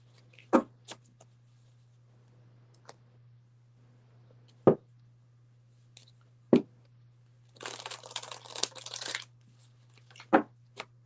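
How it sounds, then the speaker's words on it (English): Tarot cards being shuffled by hand for a Cancer reading, a few sharp riffle snaps and one longer burst of papery shuffling, close and fairly quiet with no talk. "Let me shuffle here."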